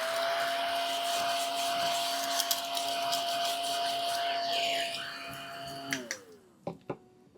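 A vacuum cleaner drones loudly and steadily with a high whine, then powers down and its pitch falls away, followed by a few clicks and knocks in the quiet room.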